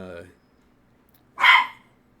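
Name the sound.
dogs barking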